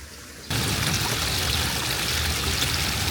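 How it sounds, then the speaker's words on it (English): A creek swollen after heavy rain rushes along in a garden, a steady, dense watery roar that starts abruptly after a brief quiet moment and then holds constant, close and fairly loud. "so the creek is really very active"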